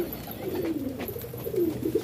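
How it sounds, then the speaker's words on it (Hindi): Pigeons feeding on grain, soft cooing and faint pecking and rustling sounds close by, with no talk. "सुभाष देखिए अभी दाना खा रहे हैं कबूतर"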